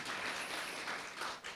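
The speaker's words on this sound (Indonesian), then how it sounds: "Tepuk tangan dulu buat Tuhan." Congregation clapping during a Sunday church service at GBI Katharizo, a dense, fairly faint burst of applause that carries on steadily for a moment with no speech over it.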